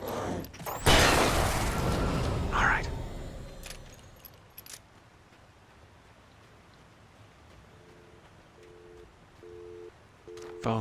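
A telephone busy signal in the video game Alan Wake Remastered gives short, evenly spaced repeating beeps. They come in quietly near the end, after a jangle of keys and some clatter.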